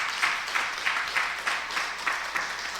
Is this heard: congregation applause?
yes